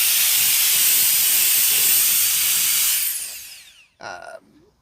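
A GOOLOO F1 cordless air duster blasts a loud, steady rush of air up close for about three seconds. The blast fades out, and a short mechanical rattle follows.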